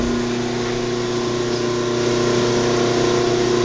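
A KMG belt grinder hums steadily right after being switched on, its motor and belt making a continuous, even drone with stable tonal bands throughout, close and fairly loud with no talking.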